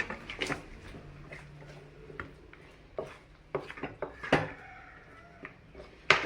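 Cashew nuts are stirred into sugarcane halwa in a pan, giving irregular close clinks, knocks and scrapes of a utensil against the pan at a moderate level.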